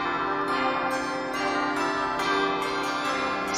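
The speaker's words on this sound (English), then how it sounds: "The clock struck midnight" A clock bell rings out at midnight, a sustained metallic tone with several struck onsets blending into a steady ringing hum, fairly close and alone.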